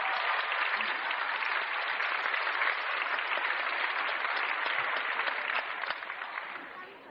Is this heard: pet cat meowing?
no